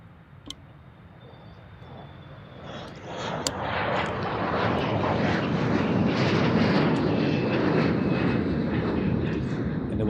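A Boeing 747 jet at Amsterdam Schiphol Airport in the early morning, its engine roar swelling from a faint rumble into a broad, loud, sustained roar over several seconds, with a few sharp clicks near the start.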